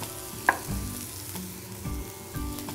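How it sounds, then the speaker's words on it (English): Garlic and onions sweat in a pan over medium-low heat, giving a soft, close crackling sizzle with a few light clicks and stirring knocks, no voices. "we're going to sweat our garlic and onions"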